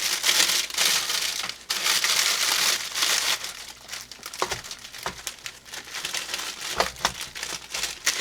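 A bath bomb is rolled along inside crinkly plastic packaging, making loud, close, continuous crinkling and rustling with sharper crackles scattered throughout and no speech.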